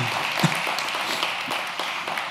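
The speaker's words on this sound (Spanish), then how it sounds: "dale un aplauso bien fuerte a Dios" A church congregation applauds, a moderately loud wash of clapping with a few sharper individual claps standing out, continuous across the short stretch.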